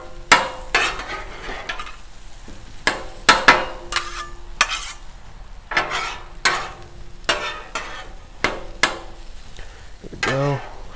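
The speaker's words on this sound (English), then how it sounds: "Now let's throw some eggs on here. Let's mix these up again." A utensil scrapes and taps in quick irregular strokes while eggs are stirred in a frying pan for a breakfast quesadilla, with a soft sizzle underneath and clear clatter against the pan.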